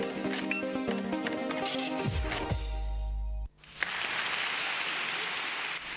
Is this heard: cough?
no